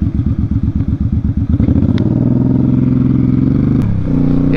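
A Suzuki motorcycle on curvy Ohio roads: the engine revs loudly and close up in a pulsing, throbbing rhythm, then settles into a smooth, sustained drone with a brief gear change near the end.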